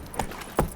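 Horse hooves clopping in The Witcher 3, a couple of separated hoof beats, close and moderately loud over a soft ambient game backdrop.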